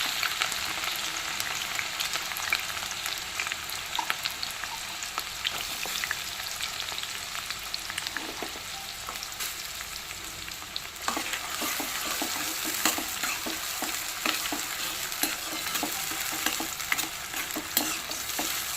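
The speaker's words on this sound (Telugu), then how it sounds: "Oil heat ఎక్కిపోయింది. ముందుగా ఆనియన్స్ వేసుకోవాలి. ఆనియన్స్ని పచ్చిమిర్చి వేసేస్తున్నా." Onions and green chillies fry in hot oil for a mutton munakadda curry, giving a loud, steady sizzle with frequent scraping stirs of a spatula against the pan, no talking.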